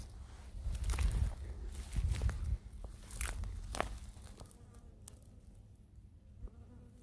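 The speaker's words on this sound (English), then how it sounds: "There's a bee." Bees and flies buzzing outdoors in Texas cattle country with cactus, faint intermittent insect drones passing near the microphone, with soft rustling and footstep-like crunches at the start.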